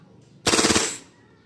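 A Tokyo Marui CQB-R gas blowback airsoft rifle fires one short full-auto burst of about eight rapid, sharp pops, loud and close, then falls quiet.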